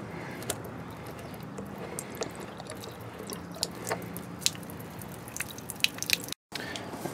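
Water trickling and dripping from the opened freshwater low-point drains beneath an RV, faint irregular drips and splashes over a soft steady flow.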